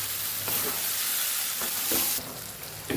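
Fried potatoes and eggplant being stirred with masala in a pan, a steady sizzle broken by a few scraping strokes of the spoon, close and fairly loud with no talk.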